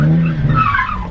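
Tires on a Nissan 350Z fitted with a dual-caliper brake setup squeal and skid loudly as the car drifts, a close, sustained screech that wavers and fades over about a second.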